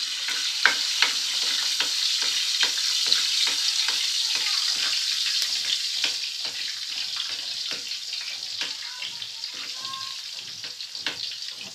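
Garlic fries in a pan until browned, a continuous bright sizzle broken by repeated scraping stirs at close range, with a few faint voices now and then.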